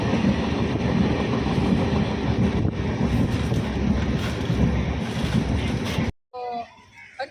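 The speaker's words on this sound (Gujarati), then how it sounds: "અત્યારે અમે આવ્યા છે સાબરમતી સ્ટેશને જ્યાં અમારી ટ્રેન છે હરિદ્વારની" At Sabarmati railway station, a train to Haridwar rumbles with heavy, continuous noise and wind buffeting the microphone, then it cuts abruptly to a much quieter scene with faint voices.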